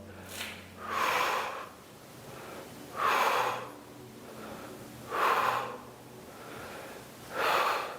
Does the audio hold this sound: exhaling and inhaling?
yes